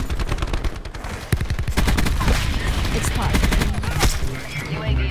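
The Peacekeeper gun firing in Black Ops 4, loud rapid bursts of close gunshots, sharp rattling volleys broken by brief gaps, continuing steadily without speech.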